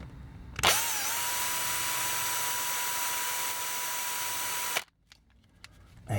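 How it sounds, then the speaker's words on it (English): A power drill drilling through plastic of a vintage toy robot spins up with a sharp whine, runs steadily for about four seconds, then stops abruptly, leaving near silence. "when I drill into it, I don't push down. I let the drill do its job"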